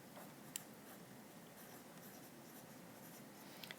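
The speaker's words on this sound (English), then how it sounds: "I'm going to write all that out." A pencil scratches out numbers on paper during a math problem, a faint, steady scribbling with small tapping ticks, close and quiet with no voice.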